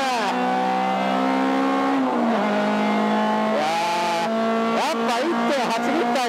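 Modified EK4 Honda Civic with a swapped B18C engine and stripped interior accelerates hard at Okayama International Circuit, the in-car engine note climbing loudly through the revs, dropping at a gear change, then rising again.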